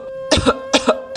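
An ailing man coughs three times in quick succession, harsh, loud and close, each burst short and chesty with brief gaps between.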